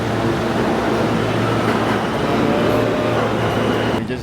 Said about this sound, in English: first time taking the New York subway